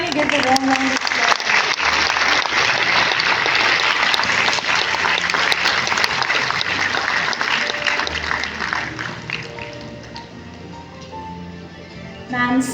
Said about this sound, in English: let us kindly give a warm round of applause.